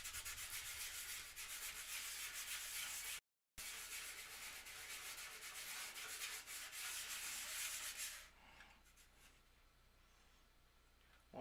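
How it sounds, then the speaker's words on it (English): Wood is sanded by hand with 120 grit sandpaper in quick, close, steady rubbing strokes that break off briefly once, then stop after about eight seconds and leave quiet room noise. "I think it definitely would have gone better if I had 80 grit sandpaper, or just something lower than 120."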